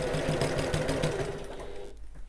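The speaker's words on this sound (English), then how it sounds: "so I'm going to back stitch here" A sewing machine back stitching while making a bag, a close, rapid mechanical chatter of the needle that runs briskly, then cuts off abruptly.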